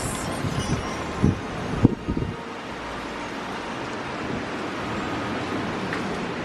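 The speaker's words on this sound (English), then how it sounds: "It's really windy out here." Steady wind rushing and buffeting the microphone outdoors, with a few brief knocks early on, then a constant low roar.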